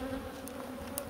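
Honeybees hum steadily inside a hive being strengthened with about two thousand added bees before winter, a close, continuous drone with a couple of faint clicks over it.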